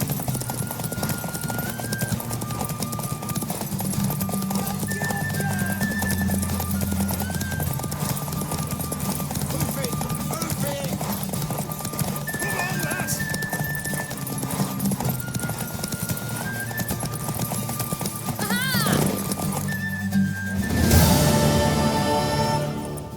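Rhythmic clip-clop of horse hooves at a steady trot in The Witcher 3: Wild Hunt, over continuous background music, with a brief horse whinny near the end.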